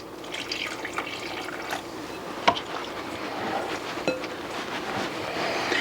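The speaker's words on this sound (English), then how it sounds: "Start adding our water a little bit at a time." Water is poured bit by bit into empanada dough in a bowl, giving a soft, steady trickle and splash with occasional small knocks and drips, close and quiet.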